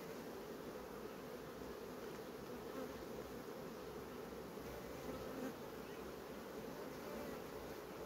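Honey bees drone steadily around a hive nucleus during colony work, a continuous, dense buzzing that holds at a faint, even level throughout with no pauses.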